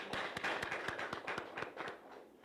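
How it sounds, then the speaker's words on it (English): A small round of applause at a grant distribution event, about a dozen sharp, evenly spaced claps over two seconds, faint and distant. "I want to give them a round of applause again"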